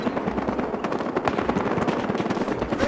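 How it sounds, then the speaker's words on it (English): Battlefield Hardline firefight with dense, rapid gunshots crackling continuously, loud and close, with no talking. "Ooh, that's a sniper rifle."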